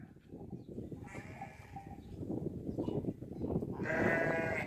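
Several sheep bleat at feeding time over a busy sheep farm background, their cries overlapping and growing louder and more insistent toward the end.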